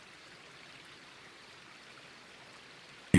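Babbling creek water running beside coyote and seep willows in the Grand Canyon's inner gorge, a faint, steady trickling wash that continues alone before a brief louder burst at the very end.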